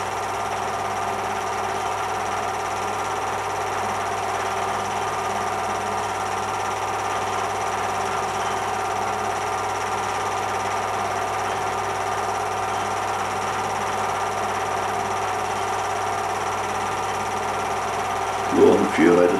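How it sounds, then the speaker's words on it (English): An old aircraft engine runs in a steady, even drone for the whole stretch, with a brief louder sputter right at the end. "The engine fires again there."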